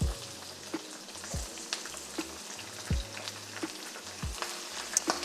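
Chilies, tomatoes and shallots fry in a pan for ayam geprek, a soft steady sizzle broken by regular scraping strokes of a stirring utensil, fairly quiet and without talk.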